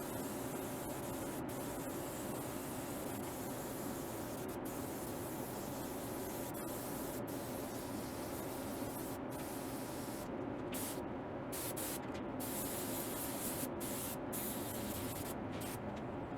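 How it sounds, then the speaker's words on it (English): A spray gun lays a second coat of white stain-blocker primer, a steady loud hiss of atomized spray that runs unbroken and close, with a few momentary breaks near the end. "This is the second coat of stain blocker going on. A little bit more uniformly this time."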